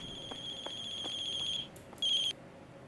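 Electronic phone ringtone from the horror game The Closing Shift, a steady tone that breaks off, chirps briefly, then sounds again for a short burst before stopping, clear and close with no voices.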